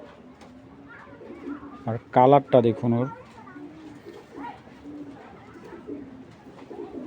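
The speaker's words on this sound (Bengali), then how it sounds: "আমি আগে দেখাই কবুতরগুলা" Adult pigeons at a pigeon farm, including a light grizzle male, give a short burst of loud, close cooing in the middle, while someone talks before and after.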